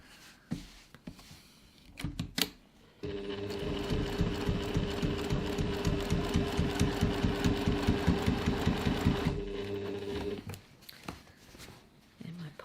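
A sewing machine stitches a reusable grocery bag in a steady rapid run of needle strokes lasting several seconds, framed by handling noises before and after; close and clear.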